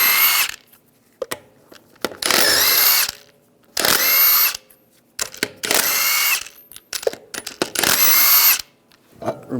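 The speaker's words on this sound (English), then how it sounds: "take the lug nuts off." A power tool drives a 22mm socket to spin lug nuts off a Ram 1500 wheel, sounding in about five loud, close whirring bursts with brief pauses between them.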